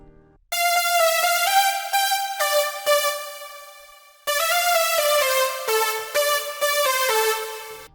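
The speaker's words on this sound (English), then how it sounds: "The first one we're going to make is this typical progressive house super saw lead." A bright progressive house supersaw synth lead plays a melody alone, with two phrases of sustained, stepping notes and a short gap between them.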